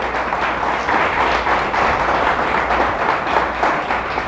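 Church congregation applauding loudly and steadily, a dense sustained wash of many hands clapping throughout.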